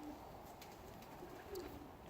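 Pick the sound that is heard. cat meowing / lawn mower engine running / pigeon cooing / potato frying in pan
pigeon cooing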